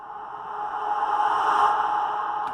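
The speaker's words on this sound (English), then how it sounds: "that's a reverse reverb hit" A reverse reverb hit from a metal remix swells smoothly, a washy rising sweep that builds over a couple of seconds before cutting off.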